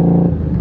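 Motorcycle exhaust and wind while riding: a loud, close engine rumble with a steady low hum, and buffeting wind noise over it in a brief burst.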